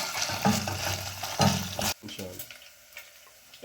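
Liver frying in oil in a pan gives a busy, crackling sizzle with stirring knocks for about two seconds, then drops to a quieter background hiss with a few faint clicks.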